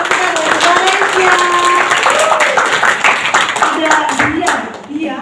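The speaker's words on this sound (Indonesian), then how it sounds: "Kita kasih aplaus untuk teman-teman dari Valencia." An audience at an entrepreneurship talk claps in a loud burst of hand clapping that fades toward the end, with a voice talking over it.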